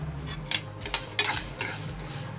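A spoon scrapes and clinks against a pan while lentils and chillies fry in a little oil for Andhra kandi pachadi, short metallic strokes over a soft sizzle, close and without talk.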